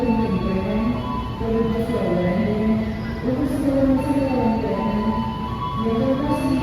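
Airlangga passenger train standing on track 3 at Pasar Senen station in Jakarta, a steady mechanical hum with drifting tones and low rumble, loud and continuous, with faint crowd murmur in the busy station.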